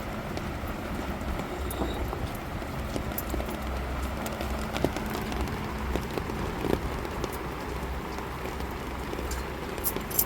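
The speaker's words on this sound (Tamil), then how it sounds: "மழை கொளுத்து கொளுத்துன்னு கொளுத்திக்கிட்டு இருக்கு" Heavy rain pours down outside a home at night, a dense, steady patter that runs the whole time at moderate loudness, with no talking.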